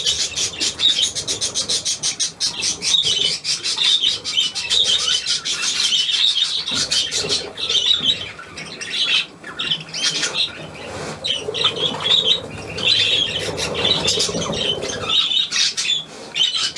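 An old parrot squawks and chirps repeatedly at close range, with bursts of wing flapping and rustling throughout, no talking over it.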